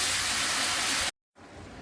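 Water hits a hot pan of fried spiced curry for a potato and paneer dish, releasing a loud, steady steam hiss that cuts out briefly and then resumes more softly.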